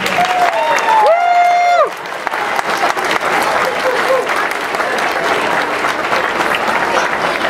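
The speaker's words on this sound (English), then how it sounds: "One more big round of applause." Audience applause at a school winter chorus concert, a loud, sustained wash of clapping from a large crowd lasting several seconds, with a voice heard briefly at the start.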